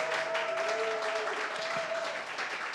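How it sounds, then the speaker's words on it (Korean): Parents and guests at a school event clap for a student ensemble, a brief burst of applause with a faint sustained tone and some voices underneath. "다시 한 번 더 우리 수고한 우리 감사반 친구에게 박수 한번 보내시기 바랍니다."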